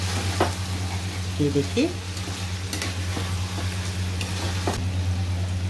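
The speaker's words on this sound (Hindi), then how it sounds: "यहाँ हमारी आंबियों को भूनते हुए 5 मिनट हो गए।" Raw mango pieces fry in spices, a steady close sizzle over a low hum, with occasional light stirring clicks and a short spoken phrase partway through.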